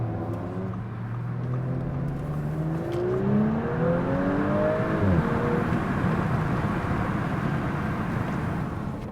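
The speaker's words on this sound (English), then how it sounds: "we're gonna open our window here and see if we can hear this exhaust from the outside." A 2019 Audi S5's engine and exhaust heard from inside through an open window, a steady rising drone as the car accelerates and shifts, with constant heavy wind noise throughout.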